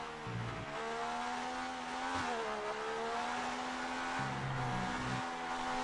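A historical racing car engine in the Speed Force racing video game at a Brazil round, a steady droning whine whose pitch dips and climbs through gear changes, heard moderately near without voices.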